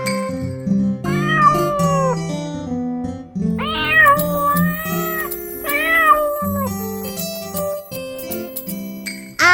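Cartoon-style cat meows, several bright, rising-and-falling calls, set within a bouncy children's song with backing music and a light jingle.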